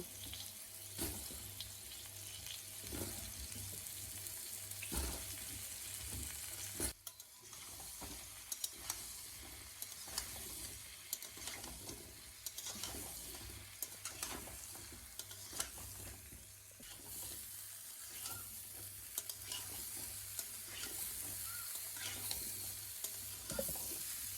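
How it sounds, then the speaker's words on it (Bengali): Mango pieces frying in hot oil with a little turmeric for sweet mango pickle, giving a steady, soft sizzle with scattered crackles and stirring clicks throughout, fairly faint and without talk. "তারপরে দিয়ে দিচ্ছি আমের টুকরোগুলো দিয়ে একটুখানি ভেজে নেব"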